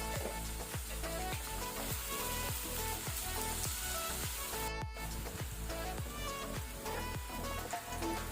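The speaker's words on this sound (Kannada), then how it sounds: "ಗೋಲ್ಡನ್ ಬ್ರೌನ್ ಕಲರ್ ಬರುವ ತನಕ ನಾವು ಫ್ರೈ ಮಾಡ್ಕೊಳ್ಬೇಕು" Onions frying in a pan for a bitter gourd and mango palya: a steady, close sizzle with rhythmic crackling bursts that keep up throughout, broken by one brief dropout midway, with no talking.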